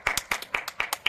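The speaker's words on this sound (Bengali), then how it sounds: "সবাই হাততালি দাও।" A family claps for a prize winner during a home game, a short run of quick, sharp handclaps in a steady rhythm, close and bright.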